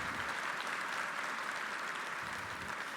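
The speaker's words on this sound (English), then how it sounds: "please do give our Calgary MLAs and our entire UCP team a huge round of applause" Dense, steady applause from a large dinner audience at a political leader's dinner in Calgary, honoring provincial MLAs, a continuous wash of many hands clapping for the full three seconds without pause.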